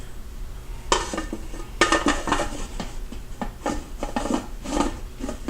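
A metal canning lid is handled on a pot during home canning, giving a series of sharp metallic clinks and clanks at irregular intervals, close and fairly loud.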